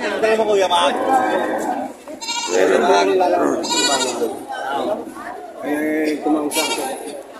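Goats bleat repeatedly in loud, wavering cries at a livestock market in Padre Garcia, Batangas, several animals calling one after another close by, with faint crowd chatter in the background.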